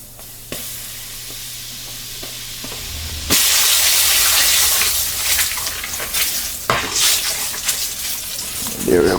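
Curry powder is dropped into hot oil in a pan and breaks into a loud, bright sizzle and hiss that keeps going with stirring scrapes, after a quieter stretch of low oil crackle and a voice talking.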